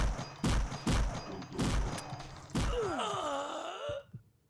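Enemy gunfire in a horror video game set in a sewer: several heavy booming shots in an uneven burst, followed by a groaning, moaning creature voice that fades out.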